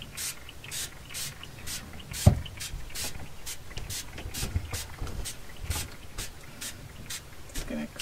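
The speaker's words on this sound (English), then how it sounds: "And then I'll go in with the Distress Oxide spray." Repeated short hissing sprays from a pump bottle of Distress Oxide ink spray, about a dozen bursts at uneven intervals, close up, with a sharp tap partway through.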